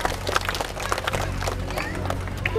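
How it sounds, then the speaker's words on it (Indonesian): Young students at a Quran learning school (TPQ Al Muhtarom, Kajen) clap together to praise a classmate's right answer, a busy fairly close patter over a low hum and background chatter. "Tepuk tangan."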